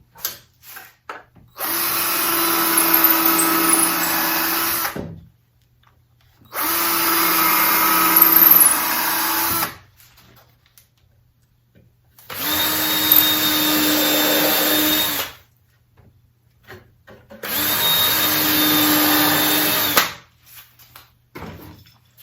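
A power drill bores out screw holes in wood from a utility-pole planter, enlarging them for the screw shanks; four loud, steady whirring bursts of a few seconds each, with short silent pauses between.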